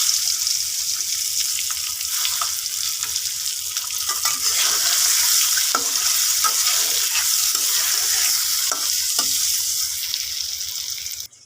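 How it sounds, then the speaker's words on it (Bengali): Eggs coated in turmeric, chilli and salt fry in hot oil with a loud, steady sizzle throughout, and occasional sharp spatula scrapes and clicks cut through it. No one speaks. "প্রথমে ডিমগুলো আমি ভেজে নেব এই যে তেল গরম হয়ে গেছে"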